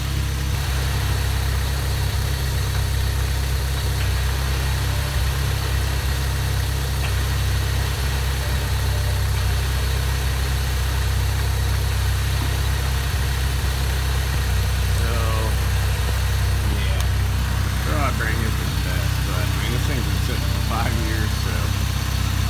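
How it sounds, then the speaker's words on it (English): A Honda Civic del Sol engine idles steadily with a low rumble, a faint scraping whine from a worn clutch throw-out bearing running underneath, and occasional light clicks and rattles near the end. "kind of like a scraping noise. That is the throw out bearing."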